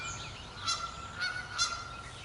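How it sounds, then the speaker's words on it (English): Geese honk three times, a few loud calls spaced out in the woods near a small creek, with faint background noise between them. "the geese, they seem to be attracted to me painting and working on"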